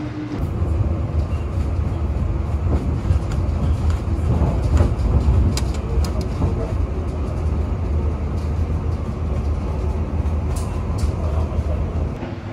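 Argo Bromo Anggrek express train running at speed through Tegal station, with a steady loud rumble of wheels and carriage noise throughout and occasional sharper clatters.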